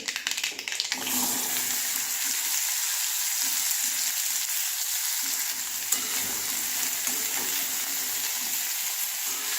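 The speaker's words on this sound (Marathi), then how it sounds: "आता याच्यात आपण अर्ध्या चमच्यापेक्षा कमी मोहरी टाकून घेणार आहे आता याच्यात आपण आपला भोपळा टाकणार आहे" Pumpkin pieces drop into hot oil with mustard seeds and fry with a loud, dense, steady hiss and crackle right up close, starting after a brief clatter and continuing without voices.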